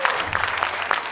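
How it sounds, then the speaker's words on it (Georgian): Studio audience on a Georgian comedy game show breaks into steady applause, a dense wash of claps sustained over the short moment with no talking. "გიოცა 400 ლარი თქვენი აპლოდისმენტები."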